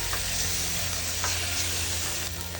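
Tomato passata is stirred into a hot pan for a masoor dal. A constant loud sizzle runs throughout under faint scraping stirs, with no talking.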